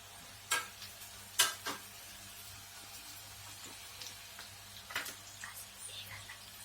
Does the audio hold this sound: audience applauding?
no